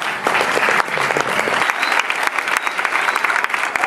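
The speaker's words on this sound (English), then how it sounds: "Please give her a big round of applause." Audience applause for a woman being introduced onto a stage, a dense, steady wash of many hands clapping close and loud, continuous from start to finish with no voices.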